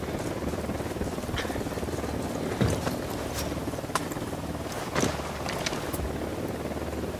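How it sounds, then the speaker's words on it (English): Helicopter approaching in the tactical shooter Ghost Recon Wildlands, a steady rotor drone under a noisy game soundscape with a few sharp transient hits and clanks, no speech. "Chopper inbound."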